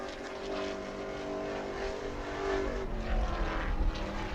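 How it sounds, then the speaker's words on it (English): A Sportsman race car engine at New Smyrna drones steadily at a distance during qualifying, its pitch shifting slightly as it comes off turn 4, with a rising roar near the end. "Steve Barnes in the 58 car, coming off turn number 4"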